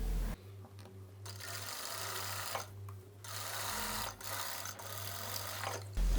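Sewing machine stitching the crotch seam of salwar pants, running in close, loud bursts with brief pauses between runs, the motor whirring steadily through each stretch of stitching.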